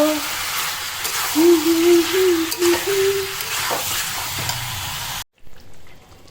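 Masala sautés in a pan with a steady, close frying hiss and occasional stirring, while a voice faintly hums a tune over it; the sound cuts off abruptly near the end.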